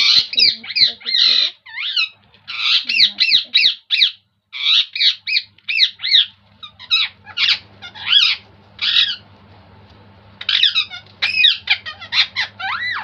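A pet bird in a cage gives repeated sharp squawks and squeaks in quick clustered bursts, loud and close, with brief pauses between runs and a faint low hum underneath.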